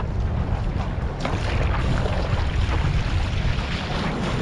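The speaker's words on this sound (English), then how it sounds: "Now I got these waves coming up." Small ocean waves rolling in toward shore, a steady broadband wash of surf with heavy wind rumbling across the microphone throughout, close and loud with no pauses.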